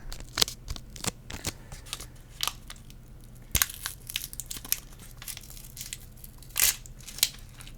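Chocolate bar packaging handled and opened up close, with scattered crinkles, crisp tearing and crunching bursts over a quiet background.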